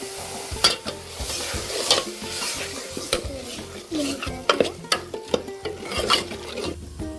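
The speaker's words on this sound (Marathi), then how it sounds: "चरबी टाकून घेतलेली आहे त्याला आता आपण परतून घेऊया चांगलं" Mutton fat sautéing in a pan makes a continuous sizzle, broken by frequent scraping stirs and sharp clanks of a spoon on the pan at close range. No one speaks.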